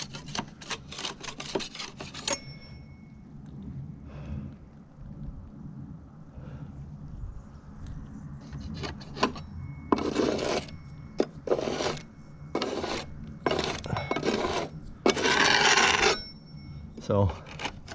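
A hand scraper rasps flaking paint off a wooden patio fascia board in a series of short, close scraping strokes, separated by gaps, with a voice now and then in the background.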